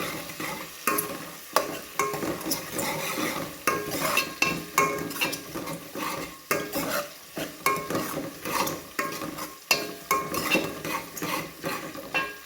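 Mustard seeds, curry leaves, onion, garlic and dried chilli sauté in a hot pan for sirukeerai kuzhambu, a continuous sizzle cut by rhythmic scraping strokes of a metal spoon against the pan, close and steady.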